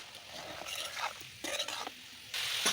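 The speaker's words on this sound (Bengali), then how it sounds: "এখন আমি একটু নাড়িয়ে নেব মানে আলু কপি সব কিছু আমার সুন্দর মতো কষানো হয়ে গেছে" A spatula stirs potato, cauliflower and peas with green chillies in a hot pan, giving several scraping strokes over a steady sizzle of frying, close and clear, with no voices.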